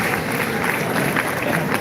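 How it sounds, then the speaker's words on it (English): Audience applause at a Scottish fiddling and dance performance in the Santa Cruz Civic Auditorium, a dense, steady wash of many hands clapping at once, loud and sustained with no pauses. "Round of applause."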